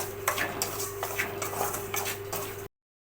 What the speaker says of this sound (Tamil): ரவையை வந்து அந்த நெய்யிலே லைட்டாக ஃப்ரை பண்ணிக்கலாம்